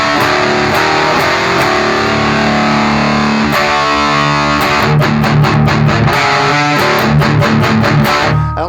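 Electric guitar played through an Orange amp on a dirty, distorted channel with a bridge pickup and no reverb, loud sustained chords giving way to tight, chugging palm-muted riffs played alone.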